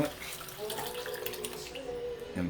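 A pan of onion, butter and milk being poured into a pot, a short liquid splashing pour heard up close in a kitchen.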